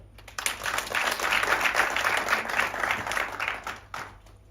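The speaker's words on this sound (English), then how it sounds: "Me Prudence Ngwenya, a round of applause for her." Audience at a children's dialogue event bursting into applause, a sudden onset of many hands clapping that holds steady and fairly loud, then thins out near the end.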